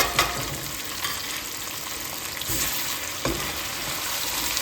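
Meat fries in a pan as green chilies and ginger-garlic paste go in, giving a steady sizzle with a few sharper crackles and stirring noises. Heard alone with no talk, at a moderate distance.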